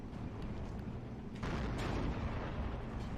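A T-34 tank gun fires in Steel Division 2, a single deep boom that breaks over a dense rumbling battlefield background of distant artillery, with no voices.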